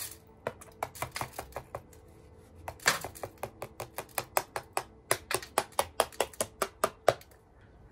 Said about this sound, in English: But I can still hear pins dropping